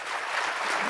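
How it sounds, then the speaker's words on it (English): Audience applause for speakers at a health equity panel event, a steady broadband patter of clapping filling the brief moment with no voices over it. "give a round of applause to our speakers here"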